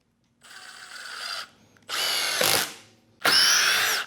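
A power drill fitted with a Milwaukee Matrix carbide bit backs screws out in three loud, close bursts of buzzing whir, each lasting about a second with short pauses between.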